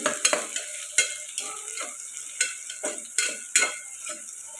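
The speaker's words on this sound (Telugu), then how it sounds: "ఇలా కలుపుకొని ఫ్రై చేసుకున్నాం ఇక్కడ ఉల్లిపాయలు అయితే బాగా ఫ్రై అయ్యాయి కదండి" Chopped onions and green chillies fry in a hot pan, stirred with repeated scraping strokes over a continuous close sizzle.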